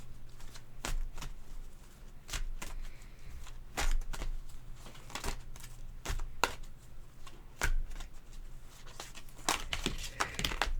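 Tarot cards being shuffled for a reading: rapid, uneven riffling and slapping of the deck, close and fairly soft over a low background hum.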